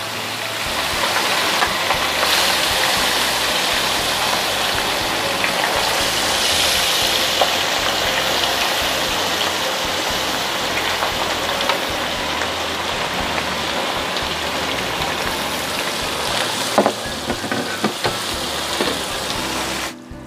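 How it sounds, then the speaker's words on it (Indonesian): Shredded tuna sizzles steadily in hot oil in a pan with a dense, even crackle, as it fries for a simple stir-fry of eggplant and tuna, with occasional stirring clatter near the end. "Digoreng sampai kecoklatan ya teman semua."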